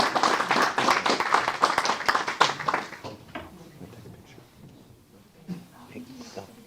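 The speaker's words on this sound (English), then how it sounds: "Let's give them a round of applause, folks." Applause at a city council meeting, a few seconds of steady clapping from those present, then tapering to scattered claps and low room murmur.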